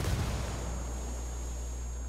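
A frag grenade explosion echoes in the tactical shooter Ghost Recon Wildlands, heard as a steady, moderately loud rumbling roar with deep low-end boom and no speech.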